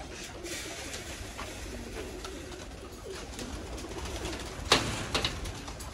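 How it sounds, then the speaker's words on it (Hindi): A golden pigeon coos softly and low, nearby but gentle, with faint rustles and a brief louder knock partway through against steady background noise. "ये कबूतर है"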